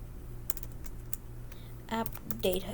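Quiet computer keyboard typing at a desk, a few scattered keystrokes followed by two short bursts of quicker clicks, close but soft over a low background hum.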